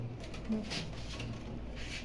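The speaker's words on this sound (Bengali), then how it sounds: "একজোড়া রেসার কবুতর মাক্সি রেসার" A pair of maxi racer racing pigeons gives soft, low cooing, faint and close against a quiet background in a brief moment.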